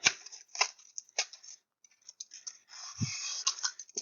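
Scissors snipping in short crisp bursts, several quick cuts spaced apart with brief pauses, close and fairly quiet with no talking.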